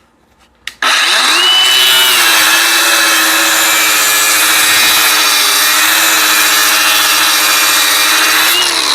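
An angle grinder bites into a metal motor mount for a locomotive after a brief knock, then runs as a loud, sustained high-pitched whine with a gritty grinding rasp that holds nearly constant to the end.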